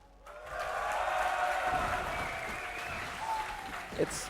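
A crowd at a DreamHack League of Legends esports match applauds and cheers in a big hall, a sustained roar that swells and fades, with a voice talking over it.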